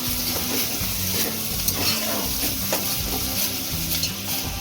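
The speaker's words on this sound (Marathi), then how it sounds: "अद्रक आणि लसणाची आपण पेस्ट टाकल्या. चांगलं मिक्स करून घेऊया." Ginger-garlic paste sizzles steadily in a hot pan for a mutton curry while a spoon stirs and scrapes through it. The frying hiss is close and constant, with soft irregular scraping strokes.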